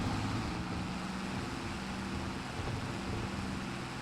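Fendt 300 tractor engine in a farming simulator game, a steady low droning hum with faint broadband noise, running continuously without pause and with no talking.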